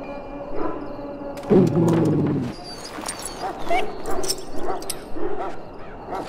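A dog in the Dragon Age: Origins game barks and whimpers, with a short burst of yelps followed by softer whines, close and moderately loud over a faint background.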